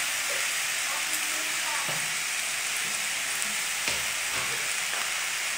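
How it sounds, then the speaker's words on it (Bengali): Tomatoes fry in a pan for a sweet Bengali chutney, giving a steady soft sizzle and hiss throughout, with occasional scrapes and clicks of stirring. "খুব ভালো করে নাড়বো টমেটোটাকে, যাতে নরম হয়ে যায় নাড়তে নাড়তে।"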